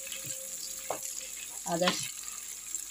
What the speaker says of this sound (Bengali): আগে আমি রসুনগুলোকে ভেজে নিচ্ছি ওই তেলের মধ্যেই